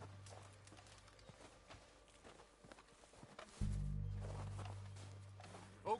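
Horse hooves clip-clop in Red Dead Redemption 2, a steady run of soft thuds in an outdoor Western scene that grows louder and closer partway through.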